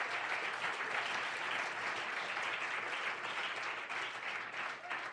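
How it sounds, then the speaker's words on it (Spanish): A church congregation applauds steadily throughout, a dense, sustained wash of clapping heard from some distance, with no pause. "Dele la ofrenda de aplauso al Señor."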